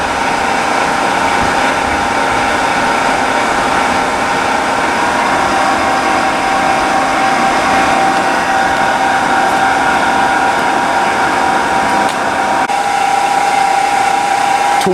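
Heavy-duty OOYA radial arm drill press running at slow spindle speed, a steady close whirring motor hum with a faint tonal whine, continuous and even throughout with no talk.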